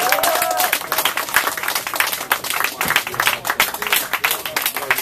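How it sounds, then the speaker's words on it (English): Dense, loud applause and clapping from a club crowd, steady throughout with some cheering mixed in, a bright, crowded burst of hands. "I gotta give these guys a round of applause."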